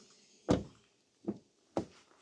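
The door of a 2019 VW Tiguan R-Line Allspace 2.0 TDI opening, heard close up as a sharp latch thunk followed by two quieter clunks, with no voices.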